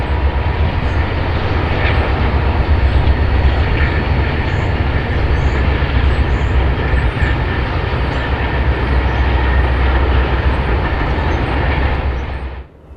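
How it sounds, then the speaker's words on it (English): A Union Pacific freight train rolls past loud and close on the BNSF passenger main line at Galesburg, a continuous heavy rumble and roar that holds for the whole stretch, then cuts off abruptly at the end. "runs several trains through here, like this one on the passenger main"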